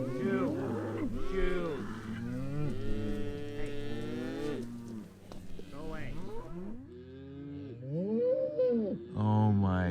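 Several cattle moo repeatedly around a campsite in the mountains, loud, close, overlapping calls with rising and falling pitch, one after another without pause.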